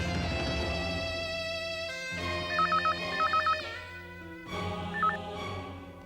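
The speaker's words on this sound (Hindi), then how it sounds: "फोन करती हूँ।" A telephone rings in short repeated bursts, three ring groups spaced over a few seconds, set against a steady musical background with no talking.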